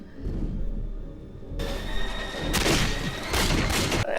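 Gunshots aimed at a huge shark in the 1975 film Jaws: loud, dense booming blasts layered with a movie soundtrack, rough and continuous rather than cleanly separated shots, with no voices over them.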